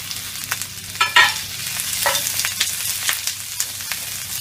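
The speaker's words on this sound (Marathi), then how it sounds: "आता यामध्ये हे 2 कांदे ब्राऊन कलरवर चांगले असे भाजून घ्यायचे" Two onions crackle and sizzle steadily in oil in a pan, browning, with stirring scrapes and clinks of a spoon against metal at irregular intervals. Close and moderately loud.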